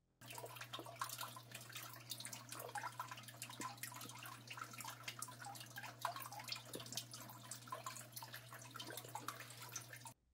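Water falls from an aquarium filter into the tank, producing a continuous, gentle splashing and trickling with scattered drips, under a steady low hum from the equipment.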